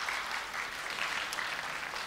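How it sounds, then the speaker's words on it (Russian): A television studio audience claps steadily, a dense continuous patter of applause filling the whole moment. "аплодисменты Юле Котоминой"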